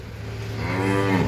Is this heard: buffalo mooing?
yes